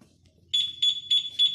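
Two-way alarm on a Honda Click 125i motorcycle sounding its warning: four sharp, high electronic beeps in quick even succession after a brief quiet moment, close and loud.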